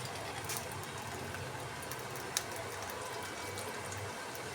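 Potato pakoras fry in hot oil, giving a steady, dense hiss of bubbling sizzle throughout, with one brief sharp crackle in the middle and no talking.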